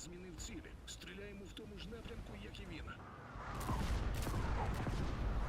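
Rapid bursts of tank gunfire and booming shots in World of Tanks crackle under excited talking, swelling into a denser, louder barrage in the second half.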